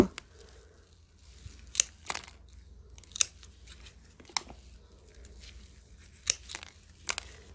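Scissors snip through rotten cranesbill geranium stems affected by soft rot, giving sharp, close clicks and crunchy cuts in an irregular series, about eight snips over a low outdoor background.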